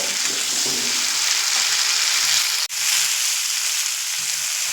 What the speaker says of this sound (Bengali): এবার এখানে দিয়ে দেব আগে থেকে কেটে রাখা ডাটাগুলো দিয়ে আবারও দু থেকে তিন মিনিট মতো মিডিয়াম ফ্লেমে কষিয়ে নেব